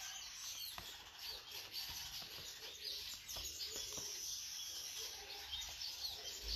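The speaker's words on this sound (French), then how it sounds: "Voilà tous les bruits que vous avez ici. Un arbre, vous savez, plein d'oiseaux." Many birds chirp and twitter from a tree outside a house in the morning, a dense, steady chorus of small high calls with occasional louder chirps, heard at moderate distance with no talking.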